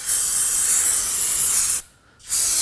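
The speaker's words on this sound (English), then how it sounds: "So I'm gonna go ahead and use some brake parts cleaner." Brake parts cleaner hisses from an aerosol can in two bursts, a long spray, a short pause, then another, during rear wheel bearing and hub work on a Nissan Armada.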